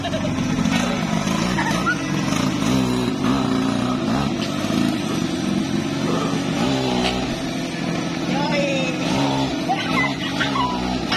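A motorcycle engine drones steadily up close, loud and continuous, with street noise around it and no clear speech, at an ondel-ondel street performance in Bekasi.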